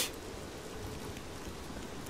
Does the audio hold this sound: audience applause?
no